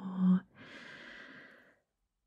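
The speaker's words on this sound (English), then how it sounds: "Breathe in till you can't breathe in anymore" A deep, slow breath drawn in as part of a calm breathing exercise for migraines, a soft airy inhalation lasting over a second after a brief hum, then silence.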